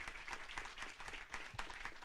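Audience applause for author Ian Rankin at a book event, a steady dense clapping that fills the room and holds its level throughout.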